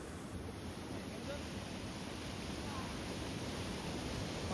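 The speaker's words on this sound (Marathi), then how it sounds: "पाण्याचा प्रवाह बघा किती." A strong river current in the Konkan region rushes past during a traditional fish run, making a steady broadband whoosh of flowing water that stays constant and continuous from close by.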